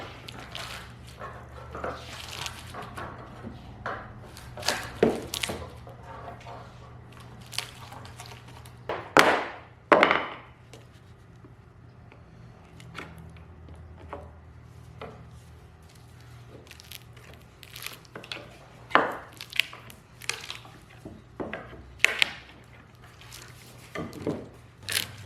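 Demolding an epoxy river table desk with an old crowbar: scattered sharp cracks, knocks and creaks of the epoxy and wood coming apart, with a few louder pops near the middle, heard close over a low steady hum.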